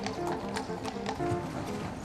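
Hooves of a King's Guard horse clip-clop in a steady run of sharp, close knocks during a royal parade, with voices murmuring faintly underneath.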